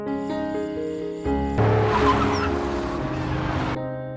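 A car at night on a highway brakes hard and skids with a sudden loud tyre screech that starts abruptly, swells, then cuts off after a few seconds, while a musical score plays underneath.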